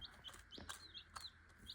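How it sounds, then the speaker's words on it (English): Young chick in a brooder giving faint, high, short peeping chirps, several in quick succession over low background hum. "You see this chick climbing up."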